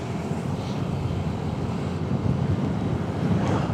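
Strong wind buffets the microphone of a Honda Click scooter rider on a road trip near Estrella Bridge in the Philippines, a steady loud rumbling roar with no voices.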